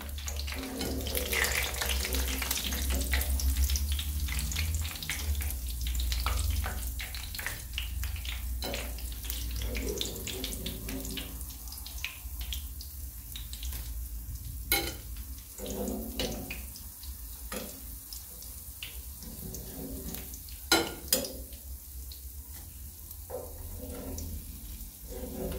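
Shebakia pastries frying in hot oil, a steady close bubbling sizzle running throughout with occasional sharp clicks and scrapes.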